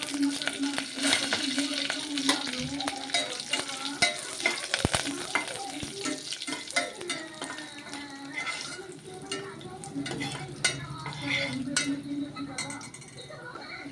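Curry leaves and dried red chillies fry in a small amount of oil for tomato rasam, with a crackling sizzle, occasional metallic clinks and stirring scrapes, close, while a voice talks over it at times.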